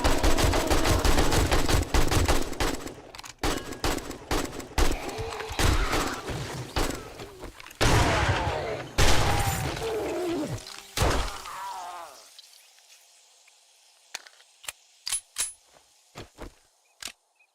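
Gunfire in the zombie survival game 7 Days To Die: sustained rapid bursts of shots and clattering impacts for about twelve seconds, then sparse single shots with quiet gaps, no talk.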